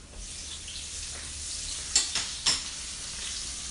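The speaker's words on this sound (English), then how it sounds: "you hear that sizzle" Food with garlic sizzles steadily in a hot pan, a constant crackling hiss with a few louder clatters of stirring, close up and with no voices.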